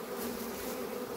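Honey bees drone around a full hive of nine frames in a low-frame apiary, a dense, continuous buzzing hum heard close and unbroken, with no voices.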